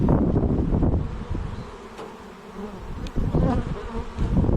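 A swarm of honeybees buzzing loudly and close, a dense droning hum that swells and dips, with no one speaking.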